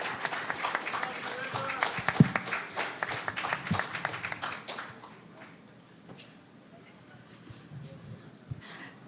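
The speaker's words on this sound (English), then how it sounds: "Let's give another round of applause to Juan Pablo and River for opening this" Audience clapping for student debaters at a university fall debate, dense and steady in the first half before thinning out, with a voice speaking over it.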